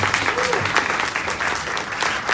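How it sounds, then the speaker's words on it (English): A live audience at a Kangen water business presentation gives a sustained round of applause, dense and even throughout, with a faint voice beneath the clapping. "Let's give it a round of applause."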